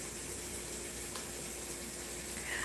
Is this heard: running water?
yes